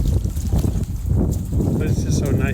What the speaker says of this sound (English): It's kind of windy right now, so I'm sure y'all hearing the wind blowing in the background.